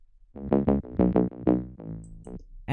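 Bass Keanu synth bass, a saw wavetable with a short filter envelope, plays a run of punchy, clipped notes in a syncopated pattern, loud and up front, with a brief tail at the end.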